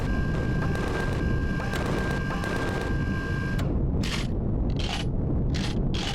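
Armory turret in Empyrion Galactic Survival firing at the player, a steady dense clatter of shots under loud game noise, followed by several separate sharp bursts near the end.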